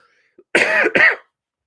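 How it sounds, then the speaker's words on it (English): Two quick, harsh coughs from a lingering COVID cough in close succession, loud and close, with nothing else around them. "I apologize for still got that COVID cough"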